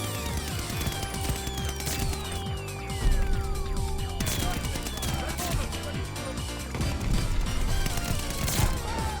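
Gunfire and impacts crash through a Call of Duty Warzone match, loud sharp shots and smashes in a busy, layered game mix with a falling whistle-like tone and talk underneath.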